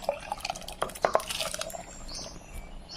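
Water is poured and swirled in a kitchen vessel while rinsing sago pearls, soft splashes and drips followed by a gentle trickle, fairly close and quiet.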